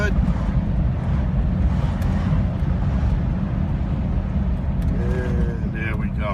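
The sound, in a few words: 1948 Cadillac engine revving while driving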